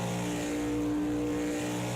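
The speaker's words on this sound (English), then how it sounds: "I was sick of hearing this car just max out." A race car engine held at maximum revs in the video game Project CARS 2, a loud, steady droning whine with a strong fixed pitch that never rises or falls, heard alone.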